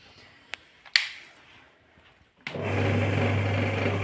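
An embroidery sewing machine starts after a few sharp knocks and clicks, then runs with a steady, loud, close mechanical whir and hum for the last stretch.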